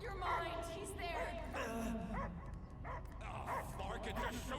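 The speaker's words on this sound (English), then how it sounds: "I hear only barking" Several dogs bark and whimper in the Guardians of the Galaxy video game, overlapping yips close up with a character voice talking over them.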